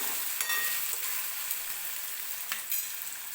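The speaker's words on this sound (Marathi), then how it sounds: "बघा टोमॅटो व्यवस्थित भाजलेला आहे" Tomato fries in a pan for a masoor dal and onion dish, a steady bright sizzle throughout with a few sharper crackles and stirring scrapes.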